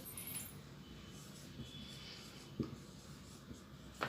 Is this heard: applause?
no